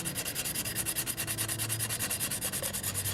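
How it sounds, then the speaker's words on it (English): Steady back-and-forth rasping of a rough nail-file sanding stick smoothing a surface before a coat of JB Weld, close up, in a fast, even rhythm. "I wanted to sand this down"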